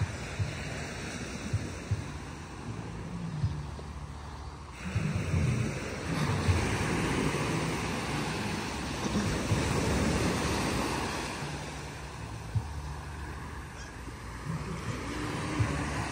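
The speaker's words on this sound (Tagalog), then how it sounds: "Yan ang lagas-las ng alon." Ocean waves wash over and churn around shoreline rocks in a steady, loud roar of surf, with wind buffeting the microphone and swells rising and falling throughout.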